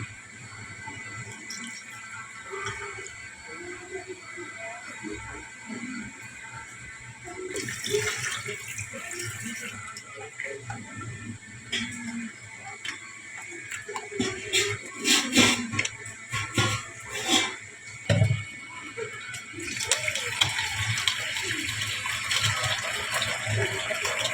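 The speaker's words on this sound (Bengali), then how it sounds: "এখন এটা অল্প অল্প করে জল দিয়ে ধুয়ে নেব" Running water washing rested flour dough for Bengali dhoka, a steady tap stream with irregular splashing and squelching as the dough is worked by hand, growing louder and more gushing toward the end, with no talking.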